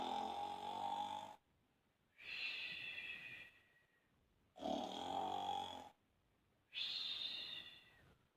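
A person imitates snoring during a children's story reading: four close, rhythmic snore-like breaths alternating between low rumbling inhales and breathy higher exhales, separated by short silences.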